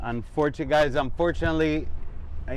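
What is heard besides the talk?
No everyday noise stands out behind the speech.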